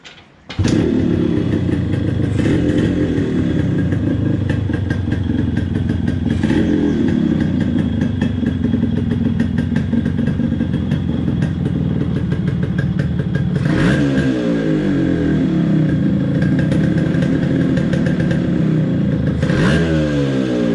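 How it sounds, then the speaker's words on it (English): A restored Yamaha RX 135 motorcycle starts up and runs close by, its two-stroke exhaust note buzzing steadily at idle with a couple of rising throttle blips partway through. "and then maybe you can hear the exhaust note."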